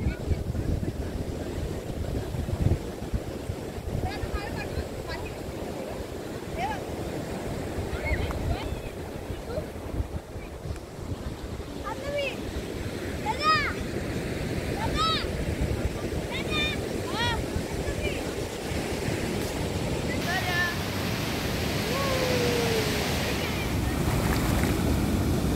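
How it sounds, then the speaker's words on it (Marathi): Ocean surf breaks and washes up on Kondura beach in Vengurla, a white-sand shore with black rocks, as a steady rushing roar with wind buffeting the microphone and faint voices in the background. "आता मोठी लाट येते."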